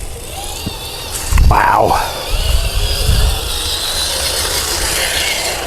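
An RC4WD Trailfinder 3 RC crawler picks its way over rocks outdoors, its electric motor whining up and down in a short strained burst over low rumbling, with a man's brief exclamation nearby.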